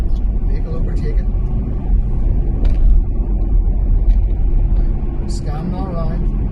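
A car climbs a hill in third gear, its engine and road noise forming a steady, loud low rumble that holds throughout, with faint higher tones drifting in and out above it.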